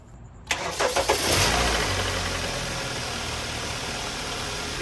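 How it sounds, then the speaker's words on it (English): A car engine cranks and catches after a jump start from a battery box. A few loud starter bursts rise into a steady, rumbling idle that holds close and even to the end. "I'm gonna go ahead and start the vehicle and see what we got here."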